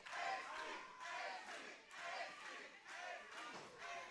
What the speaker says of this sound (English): The crowd coming alive for Ace Lee